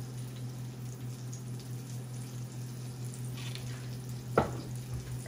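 Oil heating in a hot nonstick pan, spread around before cooking salmon, gives a steady soft sizzle and hiss with a brief louder clatter near the end, no talking.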